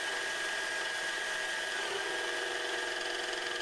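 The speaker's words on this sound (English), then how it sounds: "Here we are at maximum RPM and continuing to apply material as we increase the pressure on the shaft." A friction test machine's shaft spins at maximum RPM while lubricant material is applied under increasing pressure, giving a steady, high-pitched mechanical whine with a constant tone, faint and continuous with no voices.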